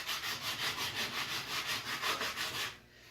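Rhythmic back-and-forth sanding on a wooden arrow shaft, a steady raspy rub repeating about every quarter second, close up, stopping just before the end.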